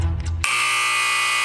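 Quiz game time-up buzzer blaring suddenly after a short stretch of background noise, a loud, harsh, sustained electronic tone that holds steady to the end.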